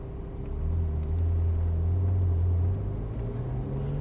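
A Ferrari sports car engine rumbles low and steady from inside the car, swelling as it pulls away and then easing off near the end.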